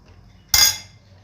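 A single sharp metallic clank of a utensil against a pot while an Andhra-style coriander dal is mixed, loud and close, rising out of near silence and ringing briefly before fading.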